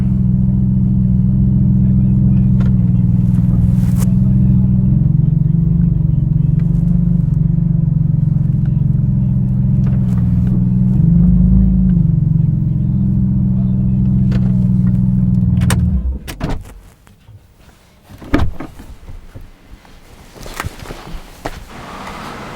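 A Porsche GT2 sports car's engine drones in a steady, loud low rumble up close, then cuts off, leaving quiet handling noises and a few knocks.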